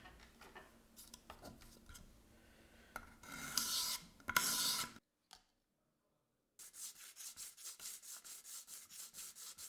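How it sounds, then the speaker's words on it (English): A ship model deck is worked by hand, first scraping and brief louder rasping strokes, then a short silence, then a quick run of even, rhythmic sanding strokes close by. "try scraping away the excess wood with a blade first, then follow up with your sandpaper"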